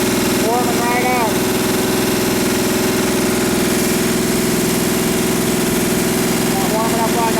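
A small engine idles steadily during warm-up, its constant low rumble and vibration running through the whole clip, with brief voice-like tonal bursts near the start and end.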